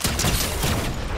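Gunfire in the Fortnite video game, a burst of loud overlapping shots over about a second with dense rattling cracks and a booming low end.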